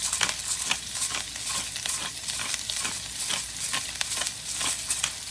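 Cabbage stir-fries in a hot pan, sizzling steadily and loudly up close while a utensil stirs and scrapes at an uneven rhythm.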